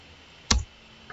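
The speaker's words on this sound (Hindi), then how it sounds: "अभी मैं एंटर करता हूँ" A single computer keyboard Enter key press, a sharp near click standing alone in a quiet room, followed a moment later by a fainter second tap.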